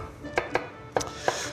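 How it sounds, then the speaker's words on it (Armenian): Onion being finely chopped on a cutting board, four separate sharp knife strikes spaced unevenly, close by and clear, with no talk. "մանր կտրատում ենք"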